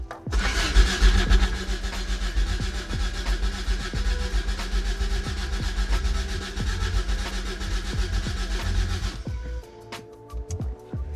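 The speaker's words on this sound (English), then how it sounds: "definitely cranks over" A 1987 Toyota MR2 AW11 engine cranks over without fuel, with the starter's rhythmic churning running for about nine seconds before it stops, close and loud, followed by a few faint clicks.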